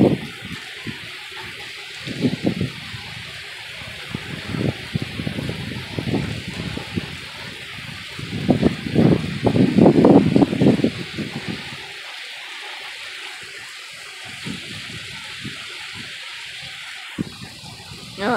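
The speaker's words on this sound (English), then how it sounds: "Here comes some more rain." Heavy rain from Tropical Storm Philippe falls in irregular gusts of splashing and pattering, surging louder in the middle before easing off.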